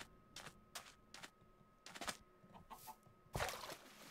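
Short bursts of clucking chickens in a video game, several separate squawks spaced irregularly against a quiet background.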